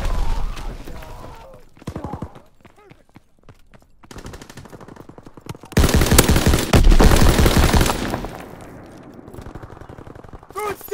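Simulated M1919 machine gun fire in a video game: scattered shots early on build into a loud, dense sustained burst in the middle, then trail off into lighter fire.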